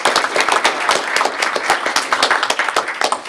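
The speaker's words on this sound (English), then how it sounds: "I think we all should give Trang a big hand of applause." Audience at a law school works-in-progress conference clapping steadily, a dense patter of many hands with sharp individual claps, fairly close and sustained throughout with no talking.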